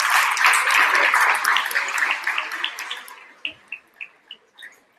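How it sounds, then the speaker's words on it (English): Round of applause for three newly elected vice chairs at a student common room meeting, a dense burst of clapping from a small crowd that thins out into a few scattered last claps. "we have a round of applause for our 3 new vice"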